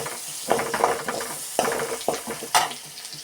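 Onion, ginger and garlic fry in a pan with a bright sizzle, punctuated by several sharp scraping stirs of a utensil against the pan, close and unaccompanied by speech.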